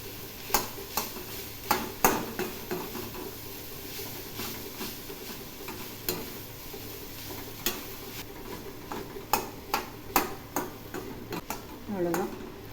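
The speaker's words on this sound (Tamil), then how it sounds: "இதை நல்லா கிளறி விட்டுடலாம்." Baby jackfruit poriyal being stirred in a pan, with sharp scraping clicks of the spoon at irregular intervals over a soft continuous sizzle, close and moderately loud.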